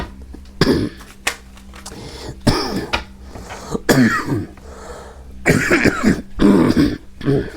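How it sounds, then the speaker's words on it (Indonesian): Several bursts of coughing and throat clearing, close and fairly loud, separated by short pauses, with no talking. "Sorry ya, agak batuk karena ini sedang lagi pergantian musim ya"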